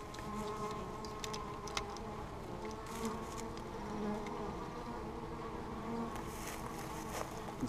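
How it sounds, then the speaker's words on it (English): A steady, dense hum of many honey bees buzzing close by at a hive during an inspection on a bee farm, with individual insects zipping past now and then, no voices. "You can see one of the bees fanning right there."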